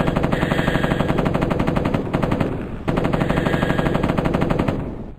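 Sustained M60 machine gun fire from the 1995 game Mortal Coil: Adrenalin Intelligence, a loud, steady rapid rattle with one brief break before the burst resumes and tails off.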